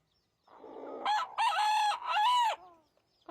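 A rooster gives some low clucks and then a full, loud crow in several harmonic stretches, close by and heard alone, ending with the start of another call.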